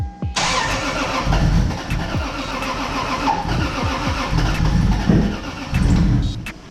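Toyota Supra engine with standalone engine management cranking and struggling to start under throttle, a loud uneven starter churn with sputtering bursts throughout.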